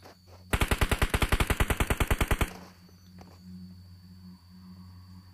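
Close automatic gunfire in a multiplayer shooter game fires about two seconds of rapid, evenly spaced loud shots, then cuts to a quiet low hum.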